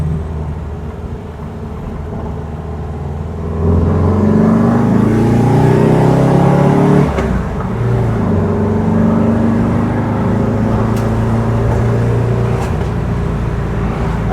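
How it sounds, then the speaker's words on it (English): A 1968 VW Type 3 with an 1835cc air-cooled engine and newly heat-wrapped exhaust runs loud and close, idling, then revving up to a steady drone, with a few faint pops that are hard to pick out. "Yeah, I got a bit of a backfire."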